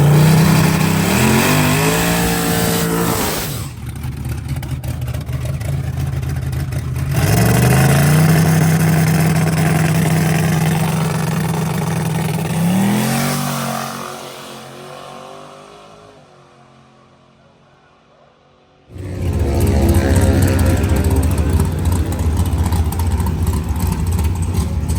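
A twin-turbo Lincoln Zephyr's engine pulls hard under boost, loud and close from inside the car, climbing through repeated gear shifts, dropping away to near quiet, then surging back into full acceleration.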